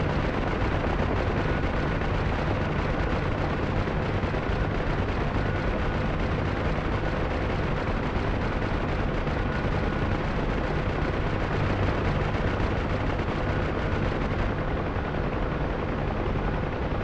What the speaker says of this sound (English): Shooting at someone.